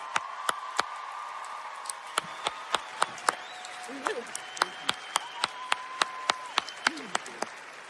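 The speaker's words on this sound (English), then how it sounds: "One more round of applause, please." Applause at a college of public health graduation ceremony, sharp distinct claps in an irregular but steady rhythm, fairly close, with voices talking and murmuring underneath.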